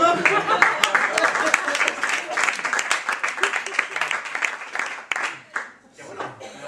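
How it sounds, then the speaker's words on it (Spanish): An audience at a comedy monologue show breaks into loud, dense applause with many overlapping claps, with voices mixed in, before it thins out and fades near the end. "¡Vamos el aplauso a la vez, por favor!"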